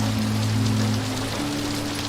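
Steady rain pours in the Call of Juarez video game, a dense even hiss under a low constant hum, no voices.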